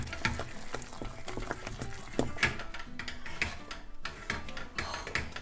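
Thick papdi no lot (khichu) dough being stirred hard in a pot, giving a steady run of dense scraping, clacking and squelching strokes close by, with no one talking.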